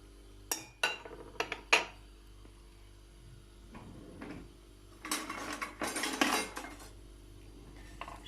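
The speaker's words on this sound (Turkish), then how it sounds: "Şöyle eriyene kadar tuz karıştırıyorum." A spoon clinks and scrapes against a pot while salt is stirred into a brine of vinegar and vegetable oil for oily pepper pickle: a few sharp metallic taps early, then a longer busier stretch of scraping and clatter, with quiet gaps between.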